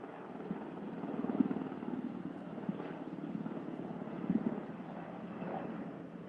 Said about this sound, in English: We've got more incoming, another sky crane and another dump helicopter.